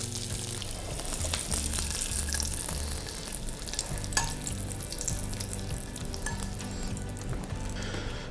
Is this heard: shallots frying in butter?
yes